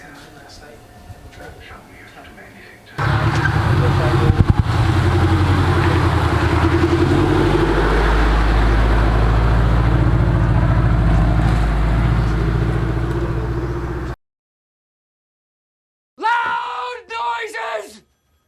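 A turbocharged Subaru BRZ runs hard on a dyno, a loud, sustained engine roar lasting about eleven seconds that cuts off abruptly, followed by silence and then excited voices.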